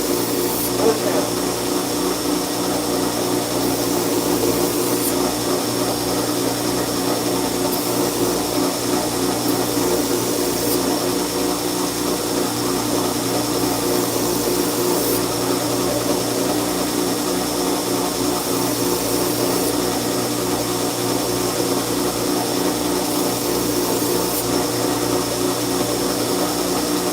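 A grinder does finish grinding on knife blades in a knife workshop, giving a loud, unbroken whine and hum that runs evenly throughout with faint periodic ticks.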